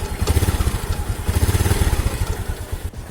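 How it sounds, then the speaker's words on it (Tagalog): A motorcycle engine runs at a steady, rumbling idle with rapid pulsing thumps, loud and close, then briefly dips near the end. "So ayun, naka-start na ang ating motor."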